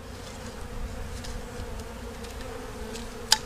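Honey bees during a hive removal, a steady low swarm hum close by, fairly faint and continuous, ending with a short sharp click or tap.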